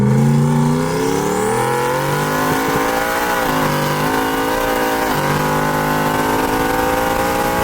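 A turbocharged 2018 Ford Mustang GT running about 8 to 9 pounds of boost pulls hard, its loud engine note climbing in pitch, dipping briefly at gear changes, then climbing again.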